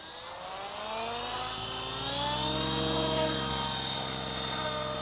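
An RC helicopter with a Futaba CGY750 gyro spools up for a flight test, its rotor and motor whine rising steadily in pitch from low to high, loud and close, with no talk over it.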